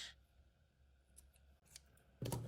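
Scissors snip crochet yarn close to the microphone while a square with a side flower is finished, with faint handling noise and then one short, crisp cut at the end.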